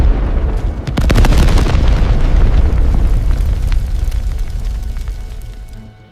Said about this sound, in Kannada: 1980ರ ಅದೇ ಸಮಯ, ಅದೇ ಸ್ಫೋಟ. ಜೋರಾದ ಶಬ್ದದೊಂದಿಗೆ ರೈಲು ನಡುಗುತ್ತದೆ.